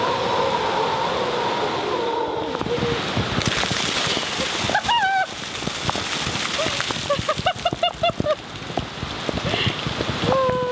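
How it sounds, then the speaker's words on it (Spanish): Heavy rain pours down in a steady, dense hiss during a Costa Rica 4x4 road trip camp, broken by brief tonal calls and scattered knocks over the wash of water. "Esperamos más de una hora, pero la lluvia no daba señales de amainar."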